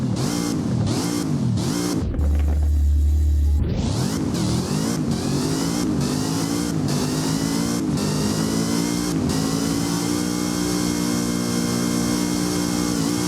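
Zenvo TSRS supercar in the Driving Empire racing game, revved repeatedly: sharp quick blips rising and falling, a short deep bass lull, then a long sustained high-pitched engine scream held loud and close, with no voices.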